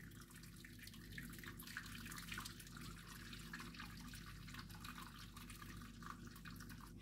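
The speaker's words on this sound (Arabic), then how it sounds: "هجيب مية سخنة بتغلي واضيفها في الصينية" Boiling hot water poured into a baking tray around a covered clay pot and cups for making homemade yogurt, a steady splashing, trickling pour close by that runs without pause, with no talking.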